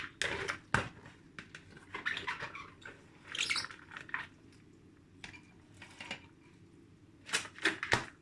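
Electric grinding machine working on washed beans for African bean cake, giving irregular clattering, rattling bursts and scraping chatter that rise and fall over a low steady hum, fairly close and quiet, with no talking.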